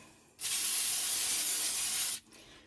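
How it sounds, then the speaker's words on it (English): A single continuous burst of cooking spray onto foil hisses close by for about two seconds, sharp and steady, then stops abruptly. "We're going to spray it."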